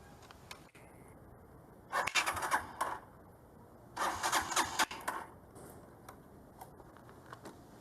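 A motorcycle engine tries to start with two loud bursts of cranking that catch briefly and die away, each about a second long, then a faint idle hum under quiet background noise.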